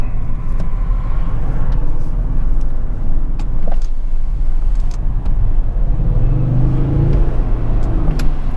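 A 2020 Audi S6 TDI diesel engine revving, heard from inside the cabin through an open sunroof, a steady deep rumble that swells and builds toward the end with rising revs and some wind noise.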